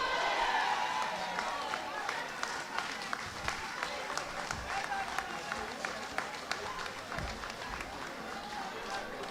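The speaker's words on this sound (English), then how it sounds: "Let's hear some more claps to Sister Amanda Japal." Party members at a national political council meeting clap and cheer, a crowd applause with distinct sharp claps standing out over a busy murmur of voices, fading slightly from a loud start and continuing steadily.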